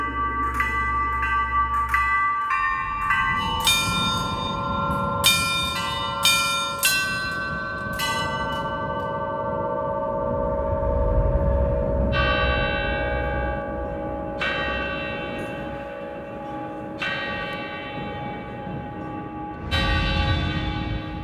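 Church bells at Diveyevo monastery ring a Theotokos prayer melody, clear struck tones sounding one after another in a slow tune with long ringing decay, heard close from the belfry amid wind rumble.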